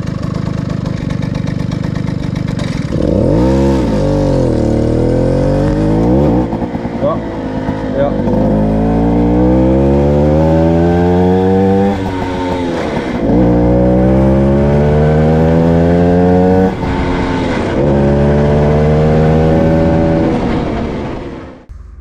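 A Puch Supermaxi moped with a three-speed hand-shift gearbox revs hard while riding, its close, loud engine note climbing again and again and dropping at each gear change.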